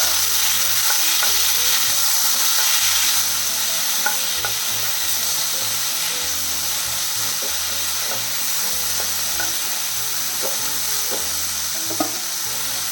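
Onions and tomatoes sauté in a pan for a tomato stew, a steady bright sizzle with occasional soft scrapes and clicks of stirring, close and continuous with no talking.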